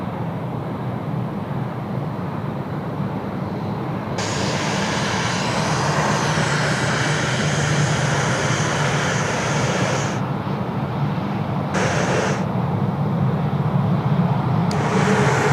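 The aircraft Lady Rebecca taxiing at Sydney Airport in wet weather, its engines giving a loud, steady roar that swells and holds throughout, close by and with no voices.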